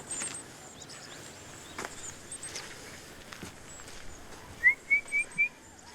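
Faint outdoor ambience, then a short series of four clear, high whistled calls from varied tits near the end.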